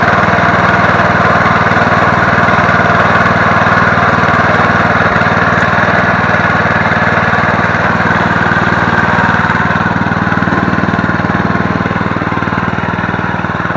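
Murray 17.5 hp riding lawn mower with a 42-inch deck idling steadily, a close, continuous low engine drone with even rumble and no talking throughout.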